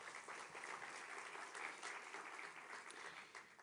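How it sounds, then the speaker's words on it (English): Audience applause at an international diplomatic conference in France, a steady dense clapping that holds evenly for several seconds without voices over it. "Et je vous propose qu'on les applaudisse aussi."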